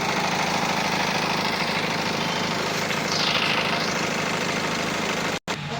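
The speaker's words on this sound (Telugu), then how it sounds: "ఇంజిన్ అనేది ఆఫ్ చేశాను, మళ్ళీ ఆన్ చేస్తున్నాను చూడండి ఒకసారి." A 2018 Honda WR-V diesel car engine idles steadily and close by, a constant low rumble with a brief swell partway through, then a sudden sharp dropout near the end.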